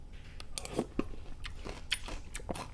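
Close, wet chewing of soft, springy khanom chin rice noodles with fermented fish sauce, irregular smacking and squelching bites repeating through the clip with no talking.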